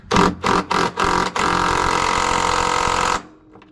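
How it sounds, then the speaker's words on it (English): A pneumatic rattle gun zaps in four quick close bursts, then holds one longer sustained buzzing run before cutting off, during radiator and thermostat replacement on a 1979 vehicle. "Little fun fact, this is my first ever rattle gun."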